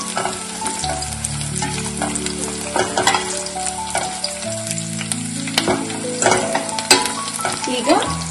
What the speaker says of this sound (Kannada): ಈಗ ನಾವು ಈ ಕಟ್ ಮಾಡ್ಕೊಂಡು ಇಟ್ಕೊಂಡಿರೋ ಚಿಲ್ಲೀಸ್ನ ಹ್ಯಾಡ್ ಮಾಡೋಣ